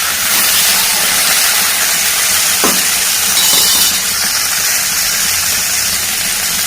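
Cluster beans frying in hot oil with garlic and curry leaves give a loud, steady hiss throughout, with a faint clink partway through and no voices.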